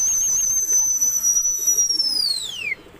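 Pigeons cooing and calling near a loft where the birds circle in flight, with a sustained high whistle-like tone gliding downward over soft low coos.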